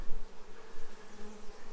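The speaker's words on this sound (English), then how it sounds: "Good looking bees." A large swarm of honeybees, including drones, buzzes steadily and close by throughout, a dense continuous hum with no talking.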